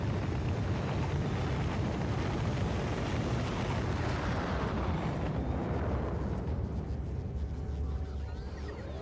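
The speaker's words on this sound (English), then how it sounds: "I love watching the rockets launch in this game." Rocket launch in the video game Factorio: a loud, sustained broadband roar like a thundering eruption that holds steady for most of the clip, then slowly thins and fades toward the end.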